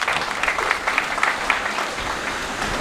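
Audience members at the Saboo Siddik mushaira in Byculla clap in a steady, moderately loud wash of applause, individual claps peaking now and then across the room with no voices over it.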